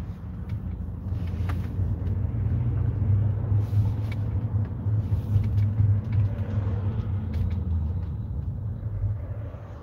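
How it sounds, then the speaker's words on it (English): Steady road traffic rumbles past beside the road, a continuous low engine drone with heavier vehicles mixed in, and no talking over it. "dealing with all this traffic"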